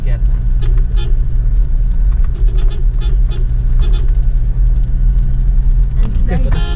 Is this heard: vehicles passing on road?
yes